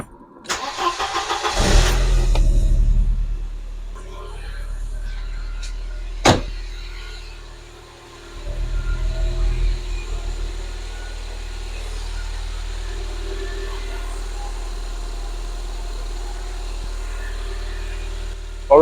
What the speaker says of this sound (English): So now let's check live on cam if everything is working.